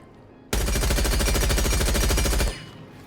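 The SC-3000K assault rifle in Rainbow Six Siege fires one continuous full-auto burst of about two seconds, rapid and loud, then cuts off into a short fading tail.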